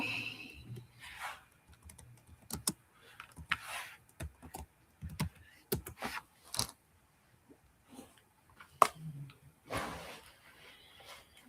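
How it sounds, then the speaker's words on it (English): Someone types on a computer keyboard in short bursts of close, crisp clicks with pauses between them, and no voices are heard. "Let me type it in the chat."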